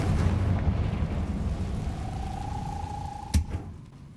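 A Confringo spell explosion in Hogwarts Legacy, cast at webs inside an enclosed space. A steady rumbling wash builds into a thin sustained tone that cuts off with one sharp, punchy burst near the end, and no one talks.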